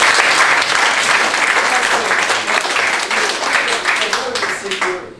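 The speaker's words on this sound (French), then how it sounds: "en tout cas on peut l'applaudir" Sustained applause for a game-show contestant, dense steady clapping from a crowd that holds strongly for several seconds before tapering off at the end.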